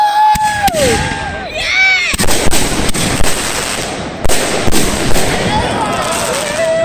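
Fireworks bursting and popping at a 2017 fireworks show, sharp cracks spread across the clip with rolling echoes, some whistling rises, and crowd murmur in the background.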